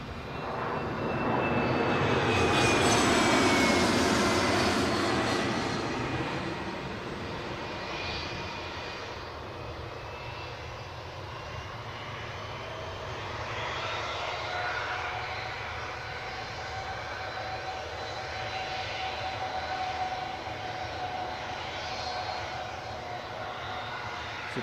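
British Airways airliner engines spooling up at Newcastle airport, heard from a distance as a broad rising roar with a whining tone that peaks early, then settles into a sustained steady rumble.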